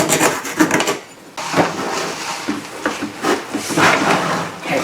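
A rasp shaves down a piece of wood to make it fit, giving rapid, loud, rough scraping strokes in quick bursts with a brief pause partway through.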